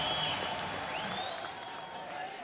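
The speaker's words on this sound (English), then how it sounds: "And just listen to this crowd" Fight crowd at a Brandon Vera vs. Hideki Sekine bout roaring and applauding after the official decision, a dense, loud wash of cheers and clapping with whistles rising over it, sustained throughout.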